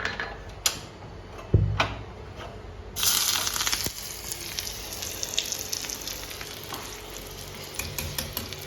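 Finely chopped onion frying in hot oil for a cooking a raita, a steady close crackling sizzle with occasional stirring clinks and a sharper burst partway through, no voices.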